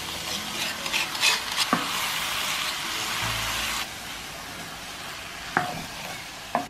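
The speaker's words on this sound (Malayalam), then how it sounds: "ഇതിവിടെ ഞാൻ നന്നായിട്ട് ഇളക്കി യോജിപ്പിച്ചിട്ടുണ്ട്" A spoon works through paneer vegetable kurma with a yogurt mixture in a pan, giving scraping strokes and knocks against the metal over a constant soft sizzle that quietens partway through.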